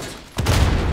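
A sudden loud, close burst of grenade explosions and gunfire from the Call of Duty Modern Warfare campaign breaks in after a quieter moment and keeps roaring as sustained combat noise.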